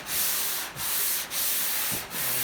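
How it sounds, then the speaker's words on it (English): Hand sanding guide coat off a Chevy pickup body panel: steady, close rasping strokes back and forth, with brief pauses at each change of direction, about four strokes in quick rhythm. "I'm just gonna finish sanding the whole thing. So you get all the guide coat off"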